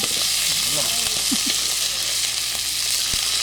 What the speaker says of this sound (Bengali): মাছ ভাজা হয়ে গেল প্রায়